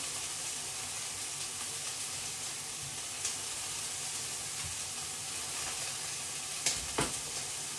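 Steady, loud sizzling of shrimp frying with vegetables in a hot pan, a dense crackling hiss throughout with a few sharper pops near the end.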